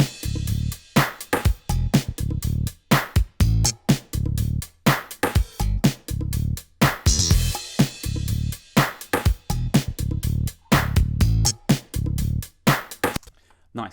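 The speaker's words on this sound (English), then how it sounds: "So let's listen to drums and bass together." Funk drums locked with a synth bass in a groove: punchy kick and snare hits in a steady, syncopated pattern over deep bass notes, loud and up front with no talking.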